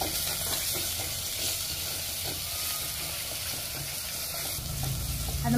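Spice masala with turmeric and coriander powder roasting in oil in a pan for a spicy chicken dish: a steady, loud hissing sizzle throughout, swelling slightly at the end.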